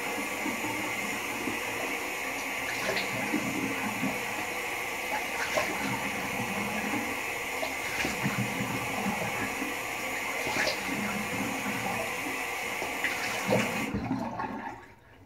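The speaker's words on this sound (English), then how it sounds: "Go ahead and start cold water rinsing." Cold tap water runs steadily into a sink for a post-shave rinse, a loud continuous gush with light splashes at close range that cuts off near the end.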